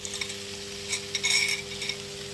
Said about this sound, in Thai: กินหมูกระทะกัน